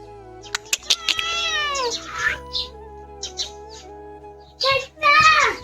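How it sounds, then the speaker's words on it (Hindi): A cat meows repeatedly inside a house, with several drawn-out, rising and falling cries, some sharp short sounds between them, and a louder pair of meows near the end, close to the microphone. "पता नहीं दोस्तों किसकी बिल्ली है, और सीधा घर के अंदर घुस रही है।"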